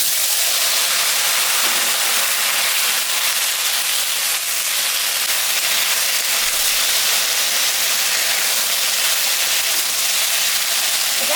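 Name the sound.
onion, taro and potatoes frying in a pan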